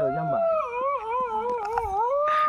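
A big dog howls near Sivasagar in Assam, giving one long, loud, close, wavering howl that bends up and down in pitch for the whole stretch.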